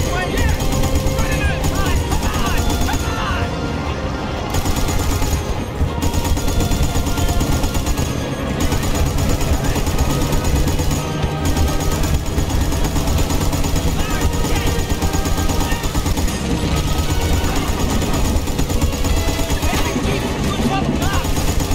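Sustained machine gun fire with bursts of gunshots in Battlefield: Bad Company 2, a loud, dense barrage running throughout an island assault with bombing, under someone talking over it.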